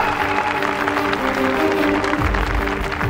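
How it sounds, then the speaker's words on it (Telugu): A church congregation at a fasting prayer service claps their hands together, producing a dense, steady, sustained wash of applause that fills the space throughout. "చప్పట్లు కొట్టండి అంత"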